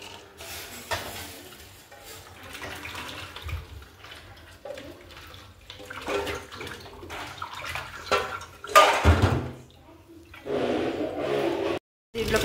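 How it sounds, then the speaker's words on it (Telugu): Cold water pours into a pot of boiled eggs after the hot water is drained, a running, splashing stream that surges louder near the end and stops abruptly before resuming. "దీంట్లోకి మనం చల్లనీళ్ళు పోసుకుందాం"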